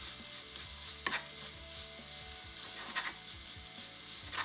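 Banana flower poriyal stir-fries in a pan with a steady, soft sizzle, punctuated by a few scraping stirs of a spatula at uneven intervals, close by and with no talking.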